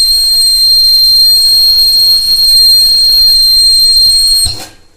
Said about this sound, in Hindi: जब इसमें इडली कुक हो जाती है तो इसमें सीटी आती है और प्रेशर बन के कुकर अपने आप खुल जाता है